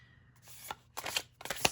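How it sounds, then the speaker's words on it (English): Oracle cards being shuffled by hand in a tarot-style reading, a soft papery riffle that starts quietly and builds into several brisk, close flurries of card slaps. "So let's do some shuffling."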